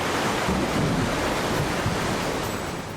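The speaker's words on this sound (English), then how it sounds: "The creek next to me had gone from a chuckle, a gurgle, to an absolute roar." A swollen creek running as a rising torrent roars right beside a campsite, a steady, loud broadband rush of churning water that holds even for three seconds with no voices.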